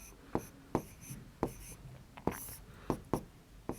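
Pen strokes on a surface while a Class 3 maths lesson is written out: a string of sharp, close scratches and taps in an irregular rhythm, about eight distinct strokes over a quiet room tone.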